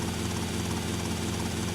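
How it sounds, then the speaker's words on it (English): Helicopter engine in a video game drones steadily with a low, throbbing rotor pulse at moderate level, alone and without talk. "You end up pretty close to where this helicopter is."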